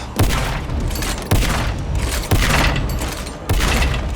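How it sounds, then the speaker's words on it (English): A Painkiller game weapon firing its last rounds: four heavy, booming shots about a second apart, each with a sharp crack and long rolling tail, loud and close. "The last few rounds in your weapons magazine have a noticeable different sound."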